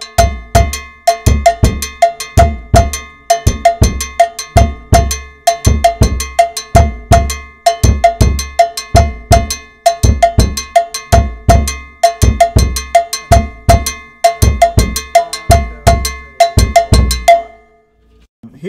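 A tumba groove on timbales, bass drum and a clave pattern on the cowbell, played steadily and loudly. Sharp bell strikes ride over booming low drum hits in a tight repeating rhythm, then stop abruptly just before the end.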